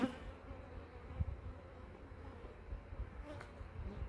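Honeybees from an open hive with a very full brood frame hum in a steady, low, continuous drone close by, with a few louder swells and no speech.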